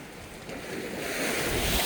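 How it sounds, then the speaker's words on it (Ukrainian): Steady rush of sea surf at Lanzheron beach in Odesa with a rising wash of water, wind buffeting the microphone, no voices. "Ой, яка хвиля була, Сашка"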